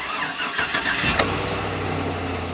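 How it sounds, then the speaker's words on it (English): A 2005 Chevrolet Suburban engine cranks for a moment, then catches and settles into a steady, low idle, close by with no one talking. "I'm going to start the engine here"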